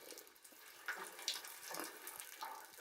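A man urinates into standing water inside an Okinawa cave, a quiet, faint splashing trickle with soft bursts of louder spatter, echoing slightly in the enclosed rock space.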